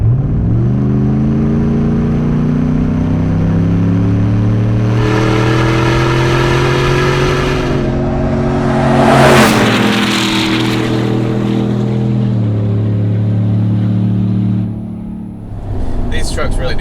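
A supercharged 700 hp Hennessey Goliath 700 GMC Sierra Harley-Davidson edition truck, 2020, accelerating hard, its loud engine climbing through several gear shifts with a rising roar that dips briefly near the end.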